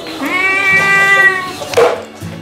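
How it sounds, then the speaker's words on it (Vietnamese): A cat gives one long, drawn-out meow with a wavering tone, loud and close, followed by a shorter clipped cry, with faint background noises between. "Mèo."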